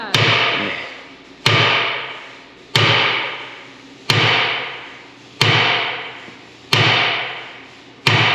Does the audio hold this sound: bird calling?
no